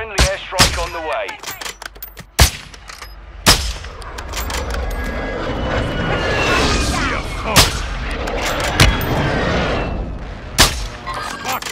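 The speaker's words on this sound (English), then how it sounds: "Friendly airstrike on the way." Warzone 2 combat: sharp, close gunshots crack at irregular intervals among rumbling airstrike explosions and distant fire, loud and chaotic throughout.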